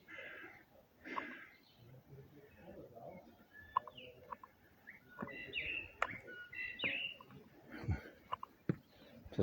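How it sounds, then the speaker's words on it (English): Faint birds chirping and singing in the open at the Slavin Memorial in Bratislava, scattered short calls over quiet background rustling and soft thumps. "Listen to the gorgeous bird songs."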